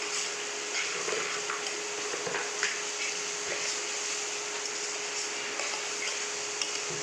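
Turmeric and chili powder spices stirred in a pan with yogurt, giving a soft, steady frying hiss with occasional scraping of the spoon, close and moderately quiet.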